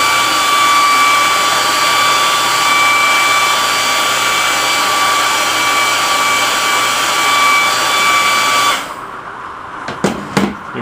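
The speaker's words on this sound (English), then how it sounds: "I'm going to hit it with the air dryer a little bit" A hair dryer blows steadily on wet watercolor paint, a loud continuous whirring roar that runs close and unbroken for about nine seconds, then cuts off, leaving a few faint clicks and handling knocks.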